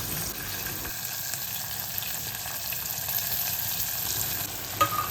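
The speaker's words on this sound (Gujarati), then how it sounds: "1 ચપટી હિંગ અને હળદર, 5 થી 6 લીમડાના પાન નાખીને ગુવાર અને બટેટાને વઘારમાં નાખી દેવા" Cluster beans and potatoes drop into a hot tempering of oil, asafoetida, turmeric and curry leaves, giving a steady close sizzle and frying crackle with a brief clatter near the end.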